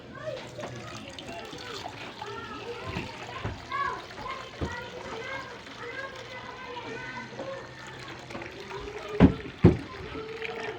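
Water being poured into a container and mixed with molasses in a rural setting, soft sloshing and splashing under steady nearby talk, with a few sharp knocks near the end.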